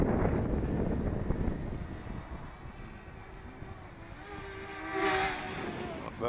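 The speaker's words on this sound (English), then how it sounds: "Still cutting through that wind." Cold, gusty wind buffets a DJI Mini 2 drone flying in sport and normal modes, a steady rushing roar near the microphone that fades slightly midway, with a faint motor whine rising toward the end.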